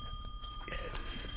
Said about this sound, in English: The bell's not even going to help that, Anthony.